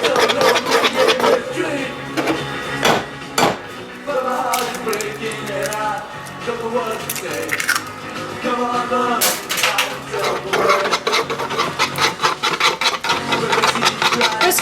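A whisk scrapes and clinks rhythmically against a bowl as eggs go into cooled chocolate mixture, with brief rasping strokes and knocks running throughout and no one speaking.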